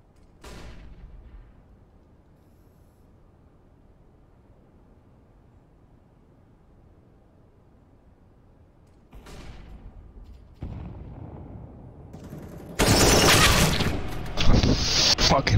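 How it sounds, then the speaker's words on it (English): A flashbang grenade thrown in the shooter CS:GO, on the map Breach: a sharp bang, then quiet, then rising blasts and a loud burst of gunfire and chaotic noise near the end. "Throwing a flashbang."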